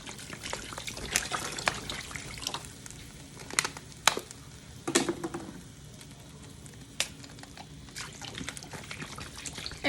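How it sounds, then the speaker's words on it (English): Water poured and trickling over a turkey carcass in a pot or crock pot for bone broth, a quiet, uneven splashing and dribbling with scattered clinks, heard alone. "You put your turkey carcass, and I do about 5 things of water"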